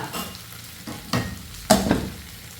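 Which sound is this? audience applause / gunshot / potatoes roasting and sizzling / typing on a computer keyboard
potatoes roasting and sizzling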